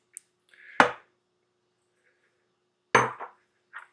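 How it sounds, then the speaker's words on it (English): A utensil knocking against a bowl while mixing flour, salt and baking powder for vegan flour tortillas, two sharp clinks a couple of seconds apart with small scrapes between, close and otherwise quiet. "Gonna mix first the dry ingredients."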